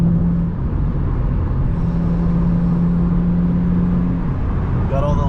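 Inside a Lexus IS300 with a carbon hood, the engine gives a loud, steady whirring drone as the car pulls forward, with no talking.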